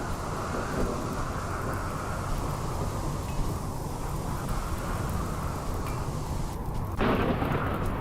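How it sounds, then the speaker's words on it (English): Stormy weather in the colony-building video game Rimworld: a steady, dense roar of rain with low thunder rumbling underneath, continuous and loud throughout, swelling slightly near the end. "What was that thunder I heard?"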